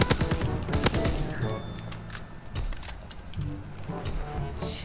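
Gunfire in Call of Duty WWII multiplayer: rapid bursts of automatic fire and sharp shots crowd the first seconds, then scattered reports continue under game noise and brief voices.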